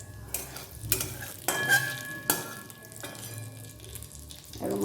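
Panch phoron spices in hot oil give a faint, steady sizzle close by, broken by a few stirring scrapes and clinks, fairly quiet with no talking.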